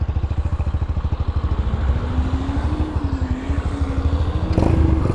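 A Chinese-made motorcycle fitted with an aftermarket Chinese exhaust idles and pulls away, a loud, close, rapid staccato putter that rises in pitch as it accelerates, with no talking.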